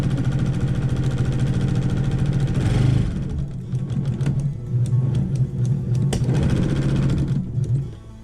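A Brother sewing machine stitches a windmill quilt, a fast, steady mechanical rattle-hum that runs loud and close, pauses briefly twice, then resumes before stopping near the end.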